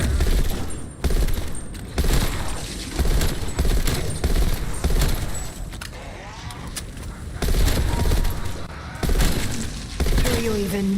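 Heavy, near-continuous gunfire in Call of Duty Cold War Zombies, loud overlapping bursts with brief pauses, with someone talking throughout over the shooting.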